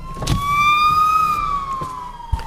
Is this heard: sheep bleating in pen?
no